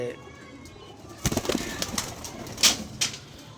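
Pigeons flutter and shuffle nearby in a loft in short bursts of wing flaps and soft rustling, with a low background hum and no talking.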